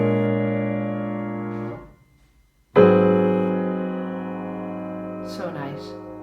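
Two sustained, rich jazz piano chords with roots on the bottom ring out one after another, each decaying slowly, with a brief silence between them and a faint murmur at the end.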